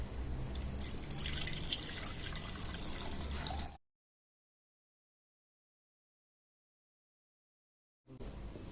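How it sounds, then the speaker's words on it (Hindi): Water pours into a vessel with a close, splashing trickle for several seconds, then stops abruptly into silence before the pouring briefly resumes at the end. "ये जो जल है हमारा, इसको हम किसी बर्तन में डाल लेंगे"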